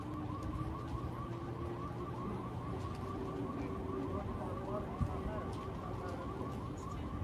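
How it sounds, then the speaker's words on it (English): Alarms ring near a burning, collapsed building in a city during unrest. A steady repeating warble of alarms sounds at a distance, layered over a constant background roar, with no clear voices. "Obviously, there's alarms going off everywhere."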